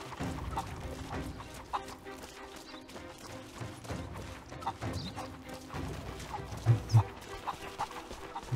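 Chickens clucking around a coop in Rise of the Tomb Raider, a scattered series of short clucks and squawks over a quiet game ambience, with a couple of louder low thumps near the end.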